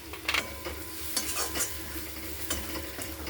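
Turmeric, red chili powder and onion-garlic masala sautéing in a pan for green moong curry, a close sizzle broken by several sharp scrapes and clinks of a spoon stirring.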